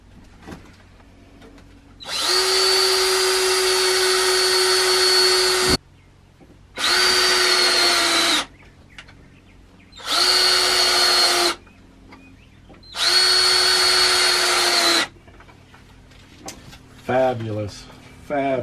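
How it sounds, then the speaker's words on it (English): Power drill driving screws into a step van jumpseat frame in four bursts, the first long and the rest shorter, each with a loud whirring motor, separated by brief pauses with faint talk near the end. "So put it where it works for you, and I'll drive in the screws"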